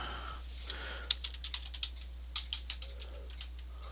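Keys tapped on a computer keyboard, an irregular run of light clicks in a quiet room, moderately faint and alone with no talk.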